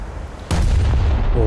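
A sudden heavy boom from warship main guns in a naval combat game, followed by a sustained rumbling roar that fills the rest of the moment, loud and close.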